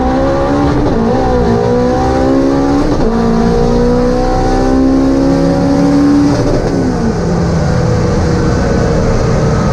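A 650-horsepower all-wheel-drive Honda Civic accelerates hard on a street, its engine loud and close, climbing through the revs with a few sharp gear-change breaks along the way.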